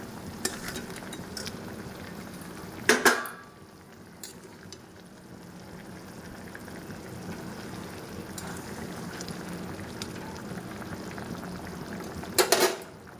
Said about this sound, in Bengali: ঝোলটা ফুটে গেছে, এবার মাছটা দিয়ে দেবো।